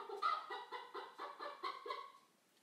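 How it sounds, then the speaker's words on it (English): A cuckoo clock chiming with a chicken-clucking call, a clear run of about seven short, evenly spaced clucks at close range with no talking. "That's the chicken, the cuckoo clock."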